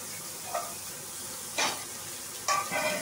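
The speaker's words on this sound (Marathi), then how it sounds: "आणि त्याला चांगलं जरा फ्राय करून घ्यायचे" Finely chopped tomatoes fry in oil in a pan for matki curry, giving a soft continuous sizzle with a few brief stirring scrapes, close and moderately quiet, with no voices.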